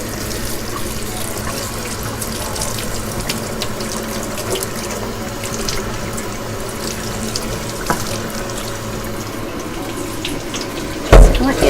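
A tap runs steadily into a sink as a dyed doll scalp is rinsed, a loud, continuous splashing hiss that holds for the whole stretch, with a brief clatter near the end.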